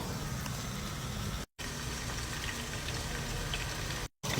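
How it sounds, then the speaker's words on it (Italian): Bracciole meat rolls with onion sizzle in boiling oil, a steady dense crackle and hiss at moderate level, broken by two brief cuts of silence. "Ci vado a buttare nell'olio bollente"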